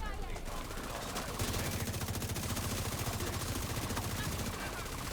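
Rapid automatic gunfire with shock ammunition in The Division 2 video game, a dense continuous stream of shots under steady game ambience and faint voices.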